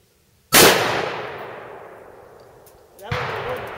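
A single loud, close rifle shot from a Ruger Mini 14 at a shooting range, with a long decaying echo, followed about two and a half seconds later by a second, fainter sharp report.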